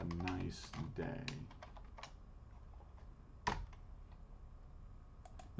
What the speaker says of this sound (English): create a new file, and then type in some number of commands